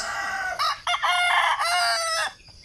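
A rooster crows loudly and close by, one long drawn-out cock-a-doodle-doo with a rising, ragged call.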